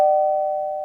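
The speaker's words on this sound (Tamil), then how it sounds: "ரொம்ப நேரமா யாரோ காலிங் பெல் அடிச்சிட்டு இருக்காங்க." A calling bell at a house door rings as a single clear electronic tone, loud and close, sustained and slowly fading over under a second with nothing else heard.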